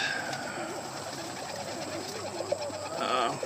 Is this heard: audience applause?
no